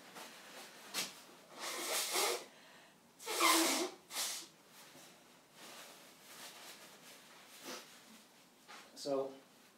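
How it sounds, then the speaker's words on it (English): A person blows their nose in a woodturning workshop. Several short, breathy honking bursts come at close range, with a couple of the strongest in the first half and one more near the end. "I'm just going to blow my nose."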